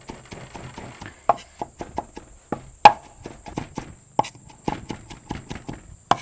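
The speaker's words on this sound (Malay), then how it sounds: "Cincang sekali." A knife chops garlic finely on a board in a quick, uneven run of sharp close taps, with a few harder thuds among them and no talking.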